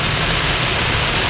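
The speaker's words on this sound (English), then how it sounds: "Right now I can't see much because the rain is still heavy." Heavy rain pours down in the core of a Florida thunderstorm, a dense, steady, loud hiss that holds unbroken through the short moment.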